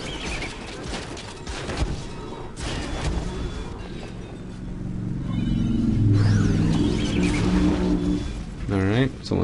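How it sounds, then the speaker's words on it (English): A car revs its engine while driving past a house, the engine roar swelling and rising through the second half over a steady background murmur with voices mixed in. "someone decides that they want to rev their car as they drive by my house"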